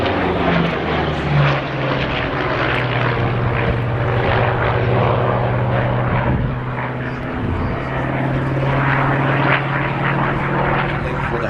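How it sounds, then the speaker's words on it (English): A Douglas AD-4 Skyraider, a single-seat, single-engine propeller aircraft, pulls up at the East Fortune airshow with a loud, steady droning roar that swells slightly and holds throughout without a break. "this is a single seat, single engined aeroplane"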